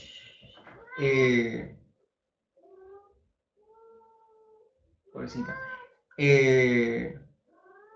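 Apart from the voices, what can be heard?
cat meowing, a mother cat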